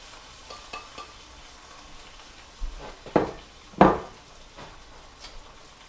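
Diced red bell pepper and black beans stirred in a hot pan: a faint background sizzle punctuated by a few sharp utensil scrapes and clanks against the pan, the loudest pair close together midway.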